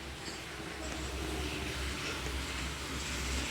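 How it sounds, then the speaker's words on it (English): A subway train on Line 1 rumbles past on the way to the National Museum terminus, a faint, steady low roar with a hiss of wheels on the track. "Here comes the trains."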